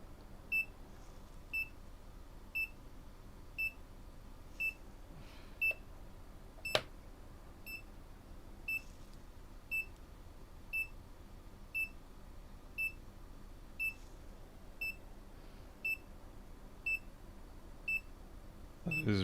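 Steady electronic beeper on a USB-powered insulin fridge with a temperature fault, short faint beeps repeating about once a second, alone over a quiet room with a single click partway through.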